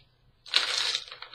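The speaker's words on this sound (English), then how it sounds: "here are my glass beads, and I'm going to set them around" Glass beads poured and set into a container for a candy bouquet, a dense bright rattling clatter rising after a quiet start and tapering off over about a second, close and fairly loud.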